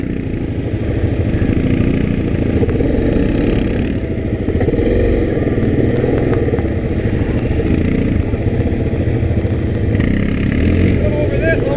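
ATV engine running through a rough ride toward a castle, a loud continuous rumbling drone with clattering bumps throughout, and voices talking over it at times.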